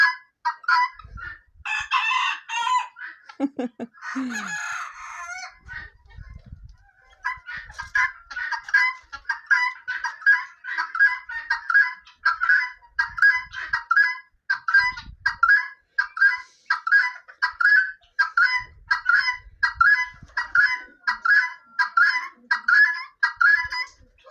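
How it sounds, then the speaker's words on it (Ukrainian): Guinea fowl cackle in a rapid, rhythmic, repeating chatter in a village morning, with a rooster crowing loudly near the start and occasional low clucks underneath. "Цесарки кричать, півники співають."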